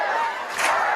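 Home crowd at a Camdenton Lakers versus Columbia Hickman high school football game roars and cheers steadily in the distance, swelling briefly louder midway through the second-long stretch.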